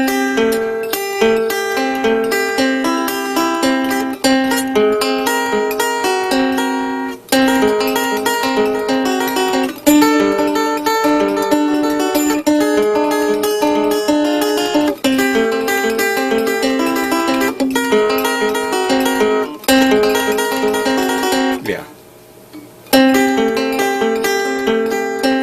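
A solo 5-string banjo plays a Latin groove built from rolling picked patterns. The bright notes run steadily, with a short pause near the end before the playing resumes.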